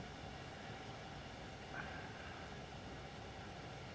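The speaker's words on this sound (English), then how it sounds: "watching a bloke trying to drive a train" Steady low rumble of a train running along the line in the Train Sim World 5 video game, a quiet continuous drone with a faint brief tone partway through.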